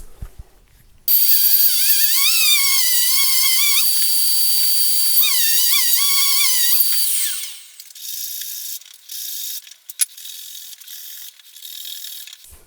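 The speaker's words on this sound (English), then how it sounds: "break out the DA sander and just kind of sand this down, probably to about 150 grit" DA sander working a Precision bass guitar body down to 150 grit, a loud high whirring hum with wavering pitch for about six seconds, then winding down and stopping, followed by faint scattered clicks.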